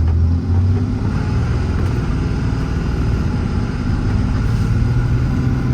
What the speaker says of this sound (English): I'm gonna let that car go a little bit up there before I gas it down the cul-de-sac here.